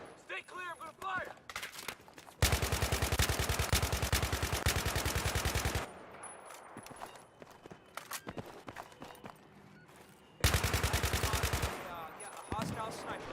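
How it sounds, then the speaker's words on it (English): Sustained rapid automatic gunfire in Battlefield 3, two long dense bursts of loud machine-gun fire with shorter shots and battle noise between, and a voice is heard at the start. "Stay clear, I'm gonna fire!"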